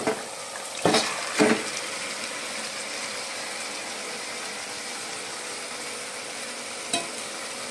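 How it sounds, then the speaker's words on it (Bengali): Marinated chicken dropped into a pan of tomatoes and spices for chicken kosha, giving a steady broad sizzle with a few sharp bursts near the start and another near the end, no voices. "আমি এখন চিকেনগুলো এর মধ্যে দিয়ে দেবো"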